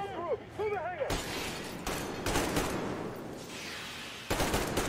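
Gunfire in the shooter Metro Exodus: after speech-like chatter at the start, loud close bursts of shooting break out at about 1.1, 1.9 and 2.4 seconds and again near 4.3, with continuous clatter between them.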